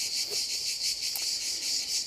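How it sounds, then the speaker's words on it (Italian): Cicadas buzzing outdoors by a family temple, a dense, steady high-pitched drone pulsing in regular waves, loud and close with no voices. "Sentite le cicale."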